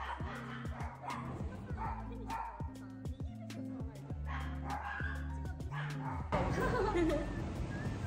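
Several small dogs bark and yip repeatedly at a pet-friendly restaurant in Dadaocheng, loud and close, with a few whimpers between the barks and people chatting underneath.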